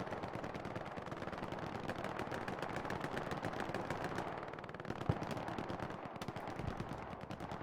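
Machine gun fire rattles through a video game match in rapid continuous bursts, steady and fairly distant, with dense overlapping shots and no talk over it.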